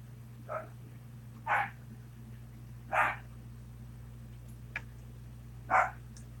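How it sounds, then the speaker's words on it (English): A dog barks a few times in the distance, four or five separate yaps spaced out over a steady low hum. "What is my dog barking at?"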